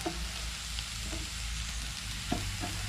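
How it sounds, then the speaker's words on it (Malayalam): Tomatoes and ground masala paste fry in a pan with a steady close sizzle, broken by a few short scrapes of a stirring spoon, and no voices. "എന്നിട്ട് ഒന്നും കൂടി നമുക്ക് ഇളക്കി കൊടുക്കാം."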